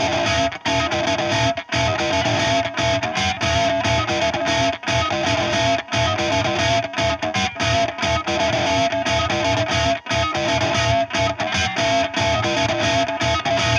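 Electric guitar through a Mesa Boogie Trem-O-Verb Dual Rectifier amp on the orange channel's clean setting with a Gonkulator effect engaged, a loud, dense, heavily processed riff playing continuously with brief rhythmic gaps.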